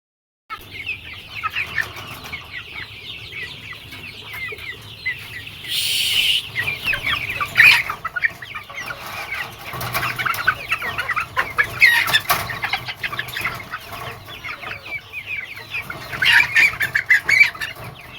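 Colombian Light Brahma chickens on a farm cluck and chatter continuously, with bursts of louder calls and a brief flurry of wing flapping, over a steady barnyard background.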